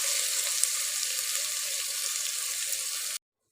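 Tomatoes dropped into garlic and spices frying in a pan give a steady, loud, close sizzle that hisses evenly for about three seconds before cutting off abruptly.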